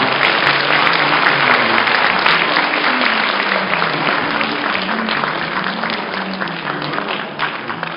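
Steady applause from the audience at a university degree conferment ceremony, congratulating a graduating engineering student receiving an award plaque; continuous dense clapping that slowly eases off toward the end.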